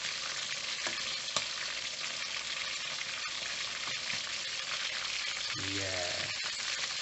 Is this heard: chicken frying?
yes